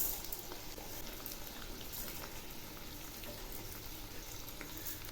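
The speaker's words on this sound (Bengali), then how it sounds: "এবার এই চালগুলোও খুব ভালো করে ভেজে নেব" Soaked, drained rice frying with ginger paste and spices in a pan for Bengali bhuna khichuri, giving a soft, steady sizzle with light stirring scrapes, fairly faint and continuous.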